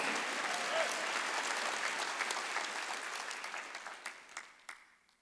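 A congregation at a Korean Wednesday worship service at Jesus Center Church applauds, a loud, dense roar of many hands that slowly thins and fades over several seconds.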